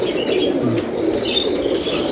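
Chinese pigeons in a loft, soft wing flaps and rustling mixed with low cooing and a few chirps, close and steady, no voices.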